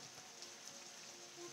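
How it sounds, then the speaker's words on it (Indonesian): Rain falls steadily on a village hut shelter with a thin, even patter of drops and a soft hiss. It is faint and continuous, and no voices are heard. "kesemprot cai hujan dari sana."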